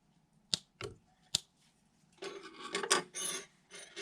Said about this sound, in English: Let's go ahead and cut our yarn.